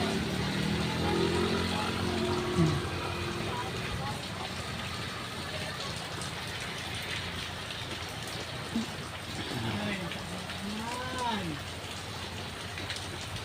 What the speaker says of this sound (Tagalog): Makulimlim ang kalangitan mga katuda dahil nga sa umuulan.